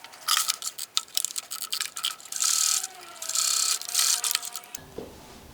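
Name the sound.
sewing machine stitching fabric edge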